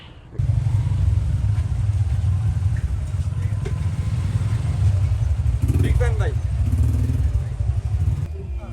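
A motorcycle engine idles and rumbles steadily up close for several seconds, with faint chirps and background noise, as the bike is brought to a stop.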